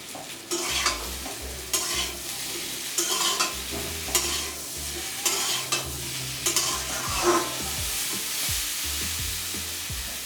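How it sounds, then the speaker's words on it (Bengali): Fried potatoes being stirred in a pan of Amodi fish curry, a utensil scraping in repeated strokes over a steady low sizzle, close and clear with no talk. "ভাজা আলুটা দিয়ে বেশ কিছুক্ষণ নাড়াচাড়া করে নেব"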